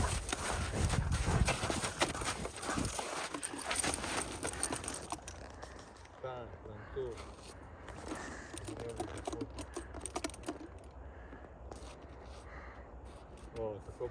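Hooves of a stallion for sale clip-clopping on a hard surface, quick irregular knocks close by, mixed with people talking nearby and fading to quieter scattered steps.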